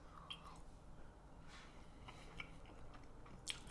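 Pork belly marinated in brown sugar, soy sauce and chili paste, eaten with pickled vegetables, chewed close to the mic: soft wet squishing bites with faint crunches, quiet and alone.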